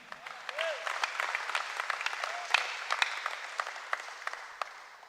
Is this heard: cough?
no